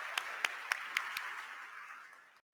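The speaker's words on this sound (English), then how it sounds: "Let's give them a round of applause." An audience claps for hackathon finalists, a handful of sharp, fairly evenly spaced claps standing out over a wash of general applause that fades away toward the end.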